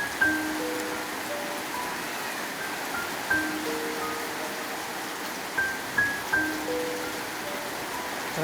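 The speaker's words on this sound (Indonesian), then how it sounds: "Hujan." Steady rain falls during a tire change, a soft even hiss of drops with a few faint knocks and tones over it, fairly quiet and continuous.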